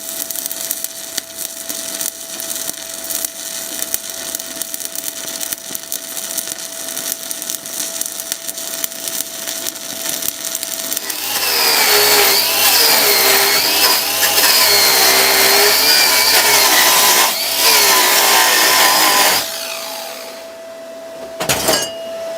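MMA stick welding with a 3.2mm rod on an R-Tech MIG181 digital welder set for 4mm, a loud steady crackling sizzle that intensifies midway, then stops with a few short bursts at the end.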